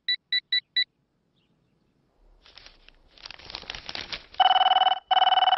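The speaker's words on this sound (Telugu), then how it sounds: "అబ్బా, ఈ ఫోన్ లో చంపేస్తున్నా." A telephone rings indoors in a Telugu film scene, starting with four quick electronic beeps, then a pause and rising noise, and ending with loud, sustained ringing bursts.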